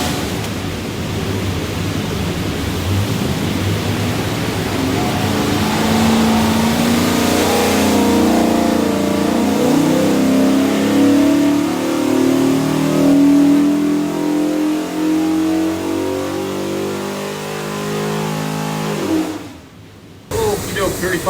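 A 347ci small block Ford V8 with a hydraulic roller cam on an engine dyno, a loud continuous roar rising steadily in pitch through a long pull, then cutting off sharply near the end.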